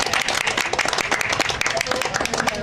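A seated audience claps loudly and densely throughout at a spoken public gathering, a steady wash of many hands with a voice talking over it.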